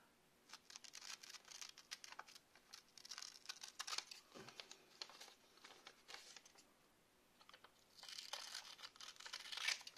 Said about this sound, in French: tu prends tes ciseaux